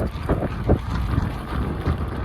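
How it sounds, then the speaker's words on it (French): Strong wind buffeting the microphone while riding a powerful electric scooter outdoors, a continuous low rumbling roar with gusty swells and no clear speech. "Le vent il est horrible les gars."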